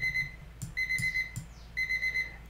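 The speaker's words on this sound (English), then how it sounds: "So that sound was actually my T alarm." A tea timer alarm rings in three repeated electronic bursts separated by short gaps, with a few sharp clicks and knocks in between.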